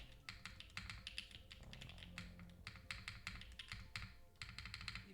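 Keys are pressed on a rebuilt Protagonist mechanical keyboard with an ISO carbon fibre plate, quick bursts of crisp clacks in uneven runs with short pauses, quiet and close.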